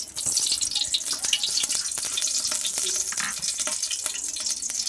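Ghee sizzling in a cooking pot makes a bright, steady crackling hiss, close and fairly loud, with small irregular pops throughout.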